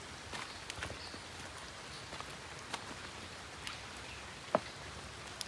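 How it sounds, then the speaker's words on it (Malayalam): Steady rain pattering on the surface of a natural fish pond, a soft continuous hiss broken by scattered louder drops, fairly faint and without voices. "ഇവിടെ നല്ല മഴയാണ്"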